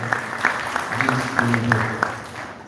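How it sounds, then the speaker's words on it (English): An audience at the Greater Horn of Africa Climate Outlook forum claps briefly in scattered, moderate applause, while a voice keeps speaking over it. "Let us give a round of applause to Dr. Tike as well for this."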